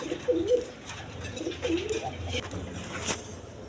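Indian Lotan pigeons coo softly in repeated short, throaty phrases, close by and fairly quiet, with a few faint chirps around them.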